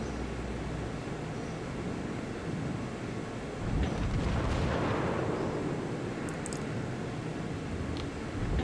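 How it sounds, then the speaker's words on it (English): Battleship Wyoming trading naval gunfire in a warship video game: a continuous low, rumbling roar of distant cannon fire, swelling into a heavier boom partway through, with no voices. "The Wyoming exchanging fire there."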